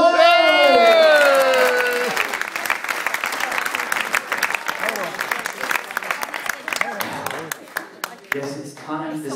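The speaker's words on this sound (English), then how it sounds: "And the crowd goes wild." Loud applause and cheering from a hypnotist show audience, starting with a burst of whoops and sustained clapping that gradually thins toward the end.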